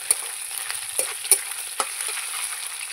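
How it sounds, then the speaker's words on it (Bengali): Leftover hilsa fish heads, already fried once, are refried and broken up in a pan: a steady sizzle carries sharp crackles and utensil taps at irregular intervals, with no voices. "আজকে আবার একটু ভেজে ভেঙে দিয়ে দিচ্ছি লাউ ঘন্টের মধ্যে"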